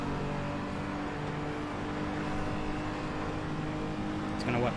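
Race car engine in the Assetto Corsa racing game drones steadily while tucked into another car's slipstream, a continuous dense roar with a slight swell near the end.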